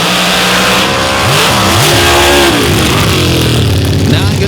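Outlaw Pro Stock drag race cars launch side by side, engines roaring loud and close with rising and warbling revs and a rough, powerful rumble throughout.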